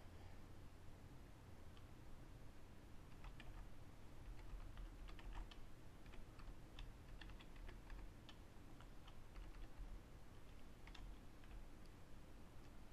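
Text being typed on a computer keyboard, a quick irregular run of light key clicks in bursts, faint and close against a soft hiss.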